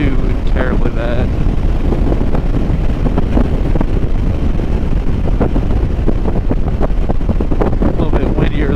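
Heavy wind rushes steadily past a Honda Rebel 500 motorcycle on a chilly, breezy ride, a loud constant roar that stays dense throughout, with faint voice fragments near the start and end.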